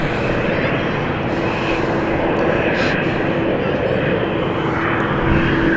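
A fixed-wing aircraft at London City Airport, flying to Geneva, holds a steady, loud engine roar throughout that does not rise or fade.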